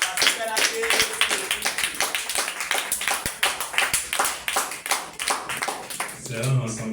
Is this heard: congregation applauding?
yes